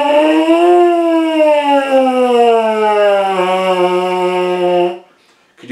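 A buzzing low brass mouthpiece lip slur moves smoothly upward then gradually down in pitch, one sustained tone lasting about five seconds before stopping.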